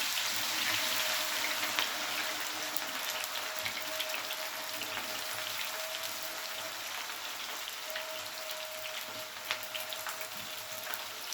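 Sliced onions dusted with starch fry in hot oil on a stovetop, a steady crackling sizzle like light rain that runs throughout, moderately quiet with faint background clatter.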